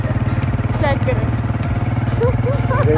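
A motorcycle engine runs steadily with a rhythmic low throb on a village outing, while a person talks over it close by.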